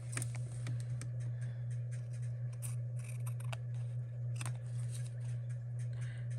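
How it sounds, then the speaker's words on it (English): Scissors snip small pieces off an artist trading card, with a series of sharp, close cutting clicks scattered over a steady low electrical hum in a quiet room. "I'm going to cut these little guys off."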